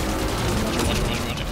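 Dense pistol gunfire in Call of Duty's Terminus zombies mode, a continuous loud barrage of rapid shots with busy game noise throughout.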